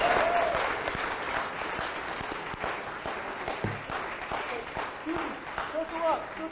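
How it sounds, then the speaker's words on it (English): Loud audience applause at a capstone showcase, a steady wash of clapping lasting several seconds with scattered voices and brief chatter mixed in. "One more round of applause."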